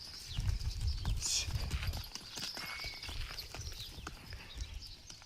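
Bulls walking on open ground at Tummalabeedu give a series of soft, dull hoof thuds in an irregular rhythm, fairly close, over faint outdoor background noise.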